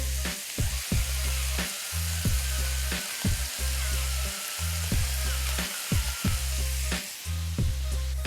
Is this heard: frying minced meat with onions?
yes